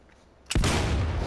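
A single shotgun blast fires in the Sniper Elite VR game, a sudden loud boom after a quiet moment that rings out and rumbles on without fading.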